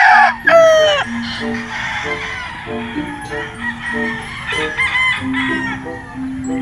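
A gamecock rooster at a game farm crows in a loud, rising call, then clucks and calls repeatedly, close by, with other fowl sounding under a voice.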